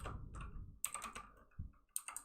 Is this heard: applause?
no